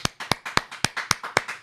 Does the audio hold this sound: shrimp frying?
no